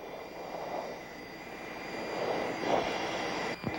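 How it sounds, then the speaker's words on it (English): A-10 jets fly in fingertip formation at the 1992 Commanders Day airshow at Grissom AFB, a steady distant engine roar that slowly swells louder toward the end, with no voices. "Coming from the left, ladies and gentlemen, are the A-10s in fingertip formation."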